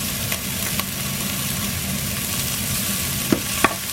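Garlic sizzles in hot oil alongside stir-frying steak for Lao stir-fried steak with long bean, a steady close crackling hiss with a couple of sharp clicks near the end and no talk.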